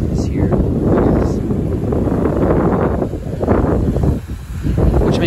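Steady, heavy wind buffeting the microphone outdoors on Anna Maria Island, Florida, a continuous low roar with gusts that briefly ease near the end.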